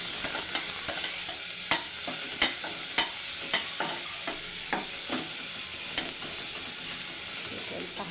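Chopped onion frying in a pan for rasam, a steady sizzle broken by repeated sharp clicks and scrapes of a spoon stirring against the pan, close and moderately loud.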